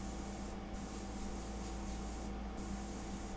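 An airbrush sprays paint onto a painting, giving a steady, continuous airy hiss with no breaks and no voices.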